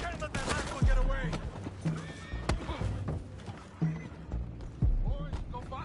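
Horses whinny several times over music and game sound effects in Red Dead Redemption 2, with a few loud thuds and clattering hooves mixed in.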